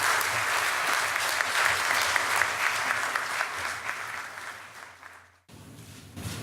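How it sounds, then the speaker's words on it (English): A warm round of applause from a diplomatic and consular audience welcoming the Dalai Lama, dense steady clapping that gradually thins and dies away before a brief pause and room noise. "Please, can you give me a warm welcome and an applause."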